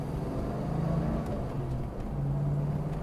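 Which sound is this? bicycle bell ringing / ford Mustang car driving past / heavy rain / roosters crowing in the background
ford Mustang car driving past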